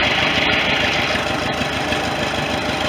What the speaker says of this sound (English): This is a loader tractor.